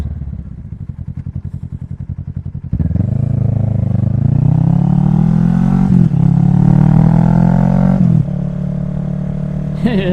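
A Kawasaki Z650 motorcycle rides steadily through a turn, its engine note rising and falling loud and close, with a brief change in pitch as the bike straightens upright; no one speaks.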